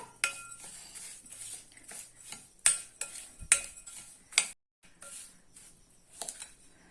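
A spoon stirs chilli powder and jaggery into a carrot pickle, giving light, irregular metallic clinks and scrapes against a bowl, close and fairly quiet with brief pauses.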